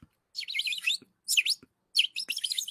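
A bird chirps in three quick bursts of bright, rapid tweets, with short gaps and a few faint clicks between them, heard alone and fairly close.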